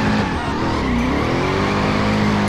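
A Chevrolet Camaro SS with a 6.2-litre engine in the Driver San Francisco video game, its loud engine roaring continuously at high revs with rising pitch and tire squeal, close and alone.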